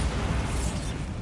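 A Bombarda spell explosion from the video game Hogwarts Legacy, a dense, loud, rumbling burst of noise filling the whole moment with no gap.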